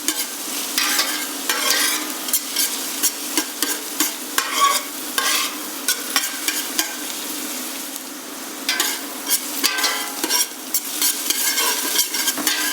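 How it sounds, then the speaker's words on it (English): Sliced onions fry in hot oil in a pan for chicken mulligatawny soup, a steady close sizzle broken by repeated scraping and tossing bursts as they are stirred, with no talk. "After cooking the onions and tossing them around in the pan for a few minutes,"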